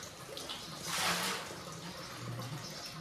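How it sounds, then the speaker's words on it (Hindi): Water runs from a ground-water spring into a bathing spot beside a Nag Devta statue on a pilgrimage trail in Jammu and Kashmir, a soft steady trickle with a brief louder splash, faint and close. "ये जैसे पानी आ रहा है बाहर से, और यहाँ पे नहाने का बनाया है इन्होंने"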